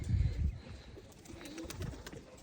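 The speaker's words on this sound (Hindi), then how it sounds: "ये 2 कबूतर और आ गए।" Pigeons coo in low, soft, throaty bursts nearby, with faint fluttering and background chatter of other birds.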